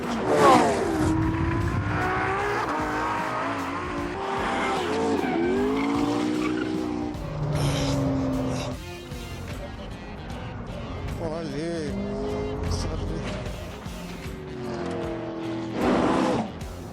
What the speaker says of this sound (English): took the cars out to get a sense of how they handled